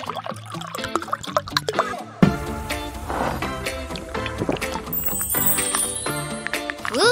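Carbonated soda poured into a glass, with a steady bubbling fizz and crackle running under bright tonal music, no talk.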